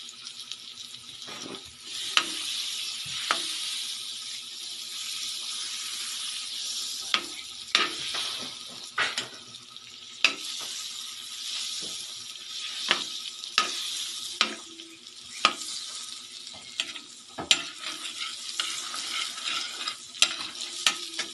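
Butter sizzles in a hot pan, a soft continuous frying hiss broken by repeated sharp clicks and scrapes of stirring at irregular intervals, close and moderately quiet.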